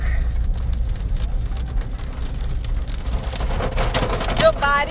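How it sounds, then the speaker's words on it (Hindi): Hail pelting the roof and bonnet of a Suzuki Jimny on a mountain road trip, a dense, steady patter of icy hits over a low engine and road rumble, with sharper clatters building toward the end. "जो बारिश है वो ओलों में कन्वर्ट हो गई है।"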